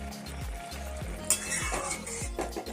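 Ghee spooned onto simmering chhana dalna in a pan, a close sizzle and bubbling with scraping and stirring clinks of a utensil against the pan, with no voices.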